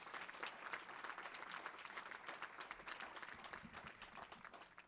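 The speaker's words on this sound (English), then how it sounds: "Let's hear it for Kiasha L." Applause from a banquet audience for a student award winner, a dense, steady patter of many hands clapping together, fairly close and sustained for several seconds without talk.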